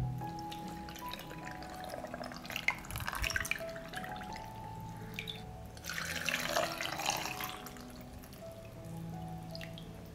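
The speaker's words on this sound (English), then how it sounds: "I will fill the jars with cold water to cover the plums." Cold water poured from a tap into glass jars packed with plums for canning, giving a quiet, uneven trickle and dripping splash with clinks, close by and without talk.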